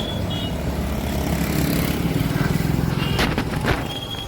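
Vehicle engines rumble and drone through a busy market street in Chaudhary Bazaar, a dense, continuous low roar of passing traffic with a louder engine swelling mid-way and brief higher clanks near the end.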